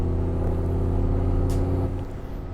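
Audi RS3 engine idling or cruising in comfort mode, a steady low rumble with dense harmonic drone, fairly loud and close throughout, easing off slightly near the end.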